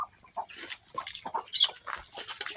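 Chickens clucking on a farm where ducks are also kept, a run of short scattered clucks and squawks at close range, fairly quiet, with no talking.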